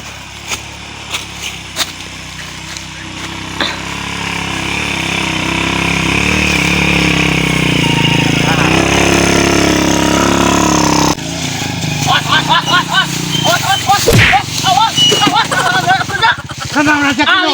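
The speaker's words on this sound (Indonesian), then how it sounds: "Ini motor si Raja." A motorcycle engine revs and runs steadily up close, rising to a loud sustained drone, then carries on under lively talking voices.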